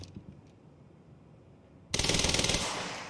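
An advanced SMG fires a fast, loud automatic burst in the video game Quantum Break, after a quiet lull with faint clicks.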